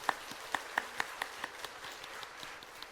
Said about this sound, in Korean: 우리 가셔서도 승리하시라고 우리 박수하겠습니다.